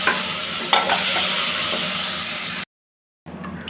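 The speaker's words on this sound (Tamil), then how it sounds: "இப்போ கட் பண்ணி வச்ச வெங்காயத்தை ஆட் பண்ணிக்கலாம். நல்லா வதக்கிட்டு தக்காளி ஆட் பண்ணிக்கலாம்." Onions and tomatoes sauté and get stirred in a pan for a drumstick-leaf sambar, with a steady close sizzle and scraping spoon strokes that cut to silence briefly near the end before resuming.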